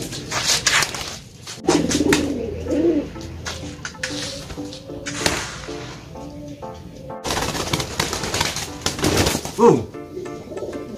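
Losdor racing pigeons coo in low, throaty bursts amid clattering and rustling, with a few soft voices in the background and louder coos near the end.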